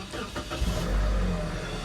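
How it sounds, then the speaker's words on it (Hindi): 2012 Toyota Hiace van engine starting and running, a brief cranking catch followed by a steady low mid-pitched idle rumble, close and moderately loud. "अभी इसको जो है वो स्टार्ट करके इसका जो इंजन है उसकी कंडीशन आपको चेक करवाता है।"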